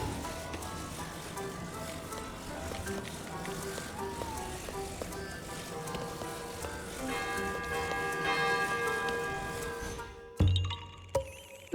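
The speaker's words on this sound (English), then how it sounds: "Why did you give me a second bell to ring?" A bell rings in Zelda: Tears of the Kingdom, its sustained tones layered with game music and effects under continuous talk, then cut off by a few sharp thumps near the end.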